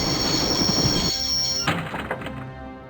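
A train in the Broken Sword video game rumbles along its rails with a steady low roar and a high metallic whine, then shifts abruptly into a duller rattling rumble with clanks, fairly quiet overall.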